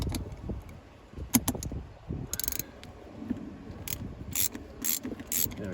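A ratchet socket wrench on a 5/16 socket hammered onto a rusted, eaten-away bolt on a BMW E93 clicks in short close bursts amid clanks and scraping, with no talking.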